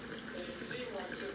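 Star San sanitizer solution mixed with faucet water is poured out of a container during home beer brewing, giving a steady, continuous gush of running liquid.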